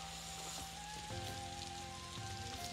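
Rain falling in the Roblox game Bloxburg during a Halloween update, a soft continuous patter of drops with faint steady tones from game music underneath.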